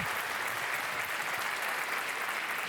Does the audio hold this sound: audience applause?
yes